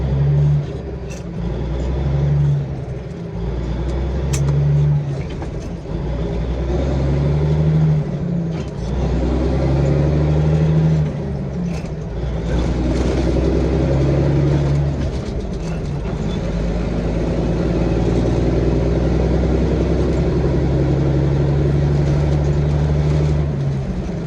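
Straight-piped diesel engine in a B Model Caterpillar-powered truck pulling in third gear, with a loud, steady low rumble and drone that swells repeatedly as it accelerates.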